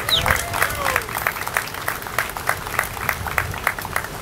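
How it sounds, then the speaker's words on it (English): Audience applause at a groundbreaking ceremony, a steady patter of many hands clapping at moderate distance with brief vocal bursts over it. "Come on, let's give him a round of applause."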